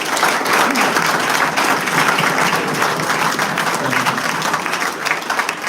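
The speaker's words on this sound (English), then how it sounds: "A round of applause for Peter." Audience at a club fans forum applauding a newly introduced chairman, loud sustained clapping from a full room that holds steady throughout.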